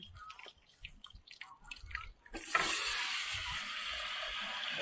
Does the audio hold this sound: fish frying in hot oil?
yes